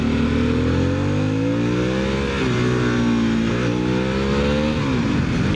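A 2025 Harley-Davidson Sportster S engine runs loud and close during a first ride, its steady throbbing drone shifting pitch slightly as the throttle is worked, with no voices over it.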